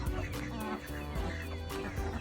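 Ducks cluck and squawk close by in a busy backyard, several birds calling over one another in a continuous racket.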